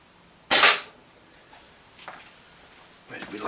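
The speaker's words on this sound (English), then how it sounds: "First shot, I'm going to aim directly at the black circle." A WinGun Mosin Nagant CO2 airsoft sniper rifle fires a single sharp, loud shot at a paper target, followed by faint handling noises.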